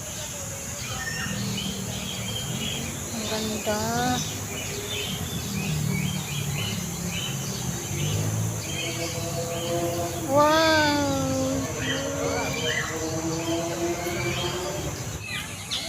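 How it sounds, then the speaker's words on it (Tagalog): Several birds call noisily from nearby at a wildlife center, with rising chirps and squawks bursting out repeatedly over a constant background hum, with a few brief spoken exclamations. "Napakaingay itong mga ibon na to."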